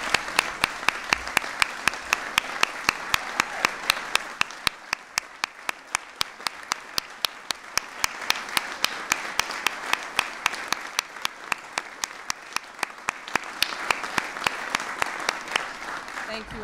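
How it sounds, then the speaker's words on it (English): Sustained applause at a presidential hiring event for veterans and military spouses, a full room clapping steadily and loudly for the whole stretch with crisp, close claps in front. "so we can give you all a round of applause."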